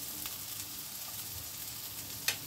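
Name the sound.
ginger and green chili sizzling in a pan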